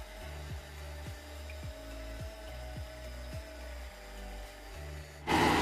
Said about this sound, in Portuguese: Eu deixei batendo aqui por um minuto, você deixa liquidificar